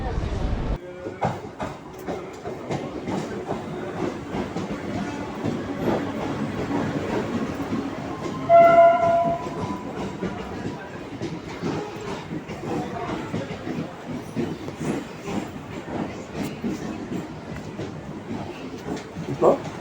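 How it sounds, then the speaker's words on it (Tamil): A commuter train from Guindy to Kilambakkam arrives and rumbles and clatters steadily on the rails, with a brief horn-like tone midway and faint voices in the background. "ட்ரெயின் வந்தாச்சு நம்ம ட்ரெயினில் ஏறிட்டோம்"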